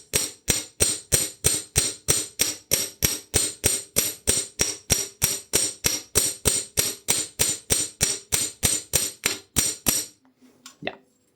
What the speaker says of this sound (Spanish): Y comenzamos a golpear con el martillo.